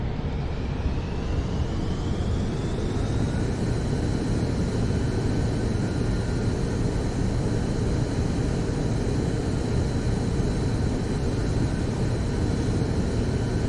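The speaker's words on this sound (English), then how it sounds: "I can just put it in Reverse reverse thrust." Airplane engines roaring on reverse thrust in a flight simulator: a loud, continuous broadband rush with a steady whine that rises slightly in pitch early, then holds constant, with no talk over it.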